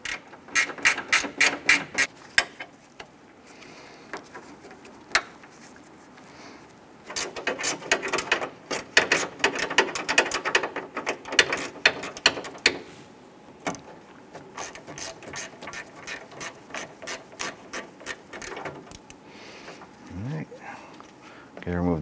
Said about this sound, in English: Use your 10 millimeter gear wrench. We want to go ahead, loosen this and remove it.